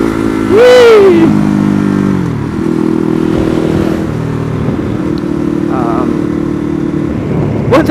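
A Ducati Hypermotard 821 motorcycle rides along with a steady engine drone. A sharp rev rises and falls early on, then the engine settles into a constant hum under wind noise.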